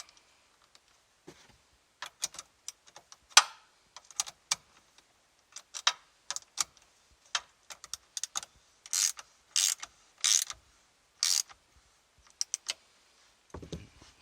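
Ratchet wrench clicks tighten a battery terminal on a Dodge Challenger SRT8 with a 6.1L Hemi, heard as close, irregular bursts of sharp metallic clicking with short pauses between strokes in an otherwise quiet space.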